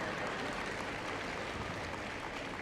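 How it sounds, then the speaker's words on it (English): At Crufts, a large indoor crowd applauds a dog display, a broad continuous wash of clapping heard from a distance, even and sustained throughout. "I think give him a round of applause."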